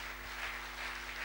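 A church congregation applauding, a dense, steady wash of clapping that sounds distant and muffled, lasting only a moment.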